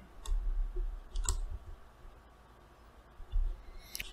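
A few soft, sharp computer mouse clicks while dragging items in Android Studio, sparse and quiet, with roughly three separate clicks spread across a faint room hush.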